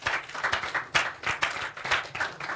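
Audience clapping in appreciation of the Nigerian police, a dense uneven patter of many hands with rhythmic swells, fairly close and loud, with no talking over it.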